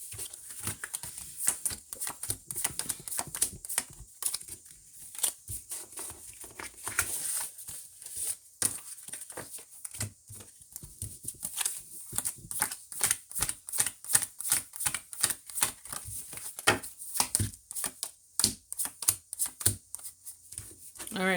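Cards shuffled by hand before a tarot-style love reading, a long run of rapid crisp riffling bursts and flutters repeating close up, steady rhythm of quick snaps and slides with short pauses between.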